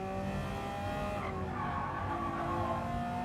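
Porsche 911 GT3 R race car in Gran Turismo 7, a steady loud engine drone with shifting harmonic tones and brief tire skid, continuous with no talk over it.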